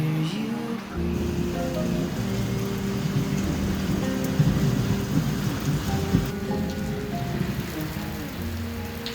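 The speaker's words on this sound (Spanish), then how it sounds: "Mientras veía la lluvia caer a torrenciales" Torrential rain pours steadily with rumbling thunder, a loud, continuous roar of water on surfaces close by, with no voices.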